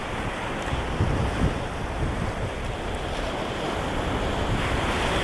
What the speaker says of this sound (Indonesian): Lihat pantainya, bagus banget.